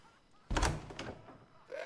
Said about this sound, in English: Open this door or I'll kick it in.